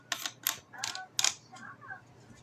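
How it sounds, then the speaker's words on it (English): The magazine cap is fitted onto an AKKAR Churchill model 220 shotgun, giving a quick series of close, sharp metallic clicks and small ratcheting ticks, then softer scrapes. "And then you just put your magazine cap on"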